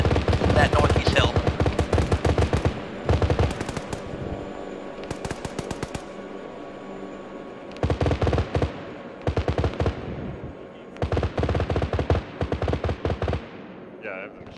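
Machine gun fire in Arma during a ShackTac multiplayer session, loud close bursts of rapid automatic shots broken by short pauses and repeated several times.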